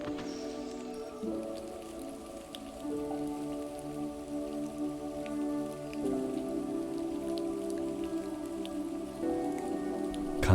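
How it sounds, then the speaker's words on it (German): Steady, soft patter of rain falling on leaves, continuous and gentle throughout with no voices. "die Regentropfen fallen leise herab"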